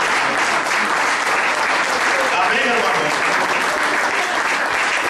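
Church congregation giving Jesus loud applause: dense, steady clapping that fills the space, with a voice speaking briefly over it.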